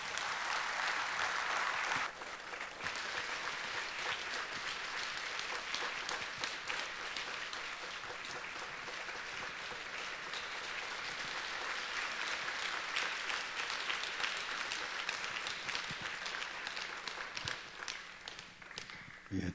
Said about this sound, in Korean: 김시영 목사님 나오실 때 존경합니다, 사랑합니다 박수로 한번 맞이하겠습니다.